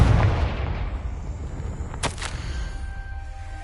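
A Confringo blasting spell explodes in Hogwarts Legacy: one sharp, bright burst with a short crackling tail lands about two seconds in, over a steady low rumble of game ambience.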